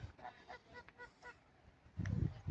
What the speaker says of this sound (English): And I think they're Canada geese.